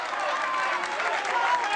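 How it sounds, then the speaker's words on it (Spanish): Brief burst of steady crowd applause, dense and even clapping from many people at moderate distance, continuing without pause. "recibe los aplausos"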